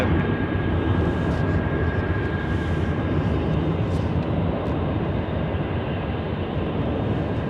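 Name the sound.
aircraft, a 400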